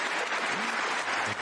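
An audience at a chef awards ceremony breaks into a brief burst of steady, dense applause, close and sustained for a second or so before easing.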